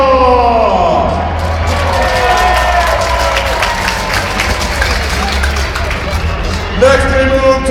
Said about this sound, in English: One of the newest trucks in Monster Jam, your applause for Frank Dremel, Donkey Kong!